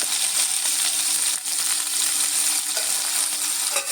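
Chopped garlic with a medium onion sizzles in hot oil, a steady bright frying hiss with occasional stirring scrapes, close and without talk.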